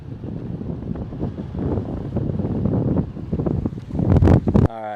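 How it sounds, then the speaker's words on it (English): Strong wind buffeting a microphone on a lakeshore at Grand Lake, Michigan, loud rumbling gusts throughout that swell near the end before cutting off. "Trying to protect the microphone from the wind."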